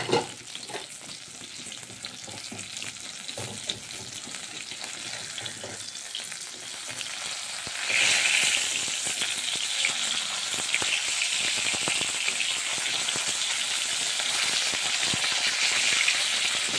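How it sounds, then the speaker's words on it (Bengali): Fish frying in a pan gives a steady, close sizzle that grows louder and brighter partway through, with faint stirring scrapes and no talking. "তারপরে বাকি মাছগুলো ভেজে নেব।"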